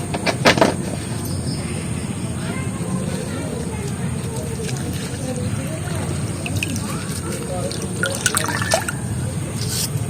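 Sadabahar leaves being rinsed in water, with steady splashing and dripping over a continuous watery background and a few clinks, a voice speaking briefly over it.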